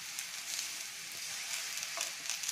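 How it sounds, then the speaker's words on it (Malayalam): Banana slices roasting in a hot pan, turned over on both sides, give a steady close sizzle and fry hiss with faint stirring scrapes, heard alone without talk. "രണ്ട് സൈഡും തിരിച്ച് മറിച്ച് വിട്ട് നന്നായിട്ട് റോസ്റ്റ് ചെയ്തെടുക്കുക"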